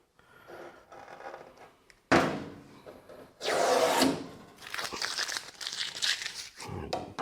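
Tape crumpled into balls by hand: loud, close crinkling and crackling bursts, with a quieter rustle first, then several strong crushing passes.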